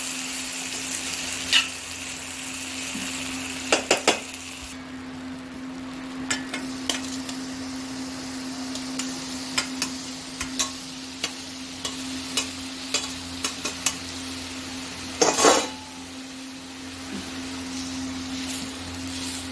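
Tomatoes cook in a pan with eggplant for a chutney, giving a steady sizzle and fry throughout, broken by occasional stirring clanks and scrapes.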